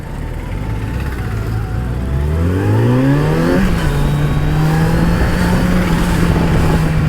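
A Kawasaki Z900 motorcycle accelerates hard, its engine note climbing steeply through the gears with a loud, close rising whine, then settling into a steady high drone.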